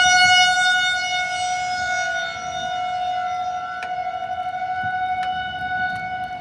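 Civil defense sirens sounding a tornado warning in Rochester, Minnesota, a steady sustained wail that slowly fades over several seconds, with faint sharp clicks and outdoor rumble beneath.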